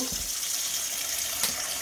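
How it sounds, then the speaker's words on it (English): Tap water running steadily from a kitchen faucet while raw chicken is washed for Ghana palm nut soup, a continuous close hiss with a brief louder splash near the end. "Now I'm going to go ahead and wash the chicken"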